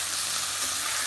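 A cooking pot of sambar masala, turmeric and salt being stirred gives off a steady, close sizzle and scraping hiss with no talking.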